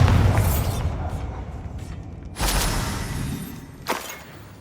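Bombarda explosion spell in the Hogwarts Legacy video game: two sharp blasts, each a sudden boom with a short rushing burst, over a low background rumble.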